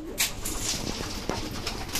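Pigeons coo near a loft trapdoor in soft, low, throaty bursts, close by, mixed with faint rustling and wing movement.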